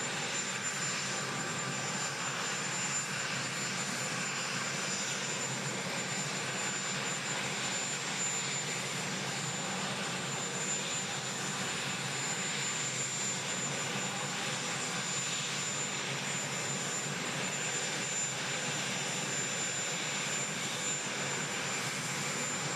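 Jet engines of the presidential aircraft running steadily after arrival in the United Kingdom, a loud, continuous broadband roar with a faint high whine, unchanging throughout.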